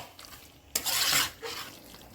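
Chicken leg gravy being stirred and fried in a pan, a short burst of close scraping and sizzling from the spoon, then a softer second stir after a pause.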